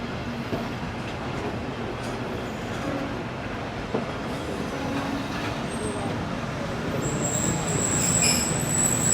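A passenger train pulls into platform 2 at Lala Musa Junction railway station in Pakistan, a steady loud rumble of rolling wagons with rising wheel squeals and high metallic tones building toward the end.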